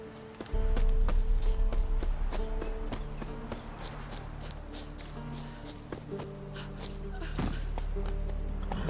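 Hooves of the horse Roach in The Witcher 3 clip-clopping in a steady trot, close and clear, with a low rumbling bed beneath and occasional sharper knocks.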